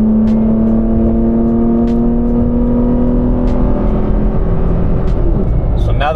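A Toyota Tacoma pickup truck gathers speed toward highway pace, its engine and road noise forming a loud, steady drone with a rising whine, heard from inside the cab.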